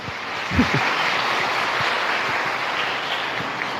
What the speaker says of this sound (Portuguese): Uma salva de palmas para os nossos jovens, né?